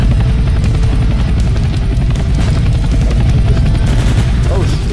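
A helicopter in the Roblox game Entry Point beats loudly and steadily up close, its rotor thrum continuous, with a few sharp impacts and talk mixed in.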